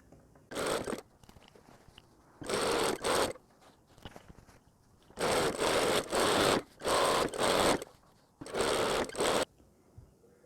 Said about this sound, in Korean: 이 상태에서 이렇게 직각으로 전체를 둘러서 박음질을 해주시면 됩니다.